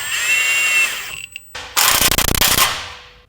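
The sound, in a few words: power tool tightening torsion key bolt on 2024 GMC 2500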